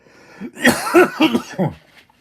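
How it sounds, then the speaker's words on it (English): A person gives a short burst of several harsh coughs in a row, close and loud, then falls quiet. "I'm about to cough."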